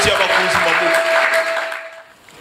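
A church congregation at a Sunday service applauding, a short burst of clapping and cheering mixed with voices that fades out after about two seconds.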